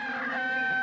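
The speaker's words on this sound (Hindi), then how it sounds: "नीचे के घर वाले पालते हैं मुर्गी।" A domestic chicken kept at a neighbouring house gives one short, loud, close cluck with a nasal, strained tone that lasts under a second.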